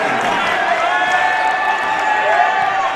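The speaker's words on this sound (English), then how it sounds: "Nice round of applause from the Wheaton faithful" Basketball spectators at a Wheaton men's game against Olivet College give a dense, steady round of clapping and cheering that fills the gym for a few seconds.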